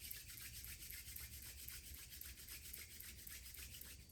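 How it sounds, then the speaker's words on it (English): Two hands rub briskly together for warmth, giving a steady, rhythmic swishing friction with regular back-and-forth strokes, close and fairly soft, with no voices. "And then rub your hands together, create a little friction, a little heat."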